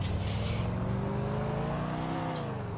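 A car in Grand Theft Auto IV drives with a loud, continuous engine drone whose pitch rises and falls slightly as it accelerates, close and steady throughout with no talk.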